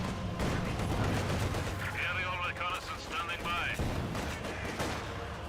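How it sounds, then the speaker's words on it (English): A sniper rifle shot in Company of Heroes 2 comes through a dense wash of battle noise, with gunfire and explosions rumbling continuously throughout. "Good sniper shot there."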